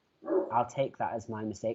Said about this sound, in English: I do apologise for my dog just deciding to kill next door neighbour's dog.